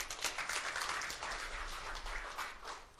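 Hesitant, scattered applause from a church congregation, a thin steady patter of claps spread across the room for a few seconds with no voices over it.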